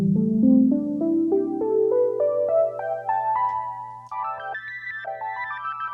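Ascending melodic line of clear, bell-like tones stepping steadily upward through a MOOD MKII micro looper pedal, with a sustained low drone beneath and a brief break before higher notes resume, no talk.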